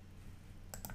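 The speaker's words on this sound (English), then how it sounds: "if you click on any point here" Two or three quick computer mouse clicks, crisp and close, land near the end of a faint, steady background hum.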